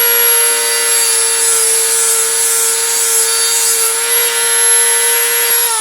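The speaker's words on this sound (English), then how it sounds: "I'm going to use a Dremel tool, cutoff wheel, to make myself a pin" A Dremel rotary tool spins a cutoff wheel through a drill bit, giving a loud, sustained high-pitched whine with steady harmonic overtones that holds for several seconds before the pitch drops slightly as the cut ends.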